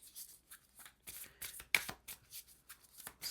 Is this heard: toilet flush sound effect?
no